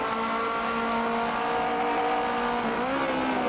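A 1950s Formula 1 car in the sim racing game rFactor 2 on the Sachsenring, its engine droning loud and steady as it brakes, the pitch sliding down near the end.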